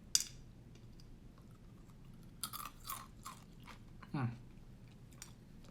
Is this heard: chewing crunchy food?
yes